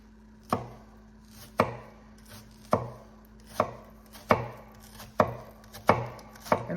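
A knife chops a peeled yellow onion very finely on a board, about ten crisp, evenly spaced chops ringing out close and clear with no voices.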